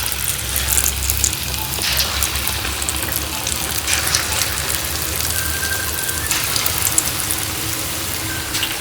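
Bhajiya (pakoras) frying in hot oil, a continuous close, loud crackling sizzle with bursts of bubbling that persists steadily without pause.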